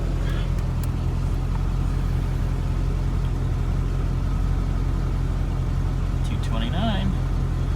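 A 1988 Chevrolet Corvette with a stuck fail-safe thermostat idles while its electric cooling fan runs, making a loud, steady low engine hum and fan drone. A voice speaks briefly near the end.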